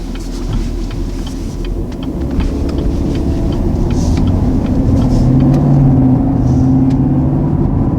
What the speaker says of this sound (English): so now let's go ahead and go for a quick test drive.